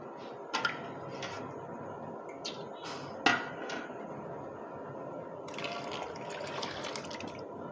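Pure cow ghee goes into a thick simmering karisalai herbal decoction, heard as faint liquid pouring and dripping with a couple of soft utensil clinks against the pot.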